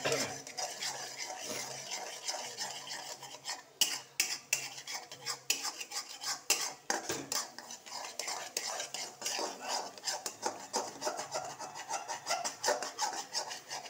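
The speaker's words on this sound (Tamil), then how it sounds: "இப்போ ஃப்ளேம் ஹை பண்ணிவிட்டு" Broken eggs frying over a high flame while being stirred and scraped in a pan, with rapid, irregular clatter of a utensil against metal over a soft constant sizzle.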